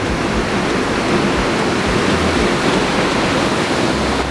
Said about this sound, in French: Ça c'est la première cascade qu'on voit.